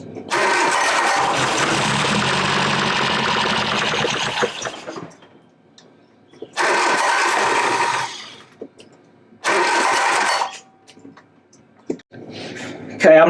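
A 1969 Triumph Spitfire Mk3 with a freshly rebuilt engine cranks over on the starter in three loud, close bursts of rapid rhythmic chugging, separated by quiet pauses and brief voices, without catching.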